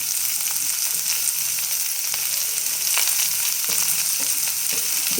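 Onions and coriander leaves frying in a pan for a ragi soup, a steady close crackling sizzle with occasional stirring clicks, no voices.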